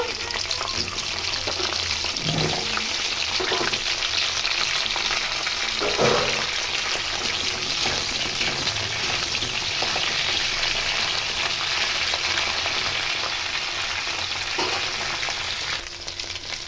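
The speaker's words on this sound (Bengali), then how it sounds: "লোহার কড়াইতে আমি সর্ষের তেল দিয়ে দিয়েছি 2 চামচ, তার মধ্যে ঢ্যাঁড়স দিয়ে আগে ভেজে নেব।" Okra frying in mustard oil in an iron kadai gives a steady, loud, close hiss and sizzle throughout, with a few faint stirring knocks.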